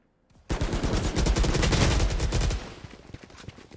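Rapid automatic gunfire in the video game Valorant, a loud, dense burst of shots lasting about two seconds, then fading into scattered softer impacts.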